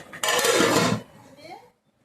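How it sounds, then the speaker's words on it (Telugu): A metal lid is set onto a cooking pot of egg, brinjal and sweet potato curry, giving one short, close clatter that fades into a faint ring. "ఇప్పుడైతే ఉడుతూ ఉంటుంది మూత వేస్తున్నాను"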